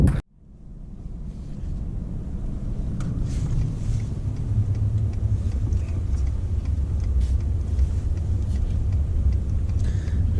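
A car driving slowly around a rural block, a steady loud low engine and road rumble that builds after a brief start and holds constant, with faint wind noise and no talking.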